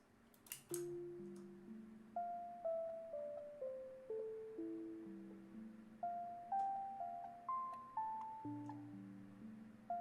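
A dry synth melody of plucky notes, each with a quick decay, stepping through a slow, sad line over a lower bass part, with no effects added.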